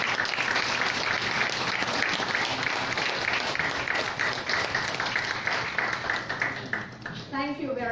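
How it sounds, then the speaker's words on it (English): An audience at a regional APEC study center symposium gives a big round of applause, a dense, loud, sustained clapping that carries on steadily and thins out near the end as a voice begins. "A big round of applause for them."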